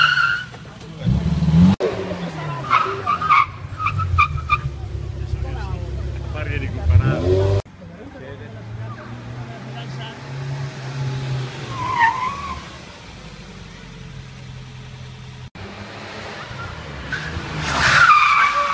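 Historic race cars on the Trieste-Opicina hill climb at a Flying S trial: engines rev hard and tires screech in long skids as cars pass near, with crowd chatter and commentary underneath.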